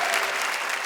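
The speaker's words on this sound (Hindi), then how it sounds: "जोरदार तालियां आपके लिए" A burst of enthusiastic audience clapping, bright and continuous, many hands together at a steady close volume.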